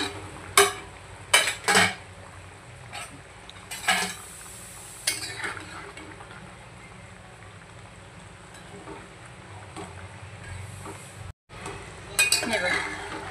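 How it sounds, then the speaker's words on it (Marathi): Spices are tempered in hot oil in a kadhai for Kolhapuri chicken rassa: a steady sizzle runs throughout, with sharp clinks and scrapes of a spoon against the pan, loudest near the start. "आता आपण फोडणीला टाकूया."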